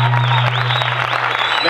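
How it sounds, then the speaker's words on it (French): Loud applause from a live stage-show audience in Brazzaville, dense and steady, with a strong low hum and some crowd noise mixed in. "c'est la raison pour laquelle ce public applaudit très fort"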